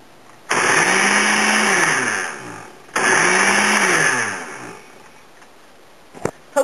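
A food processor pulses pesto ingredients with olive oil in two long whirring bursts, each spinning up loud and steady then winding down, followed by a couple of quick clatters of the lid or blade.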